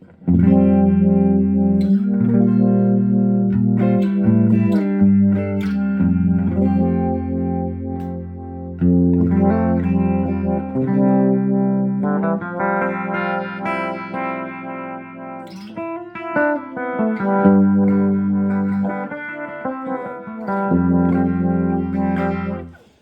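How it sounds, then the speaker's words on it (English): Distorted electric guitar plays chords and riffs drenched in a warbling, throbbing univibe-style modulation effect with reverb, continuous and prominent for over twenty seconds. "You can also get more of a kind of a univibe-ish sound"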